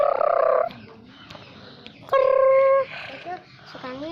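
Pet bird, kept with raw corn and rice, gives loud harmonic calls at the start and again in the middle, with quieter chirps in between and a person speaking nearby.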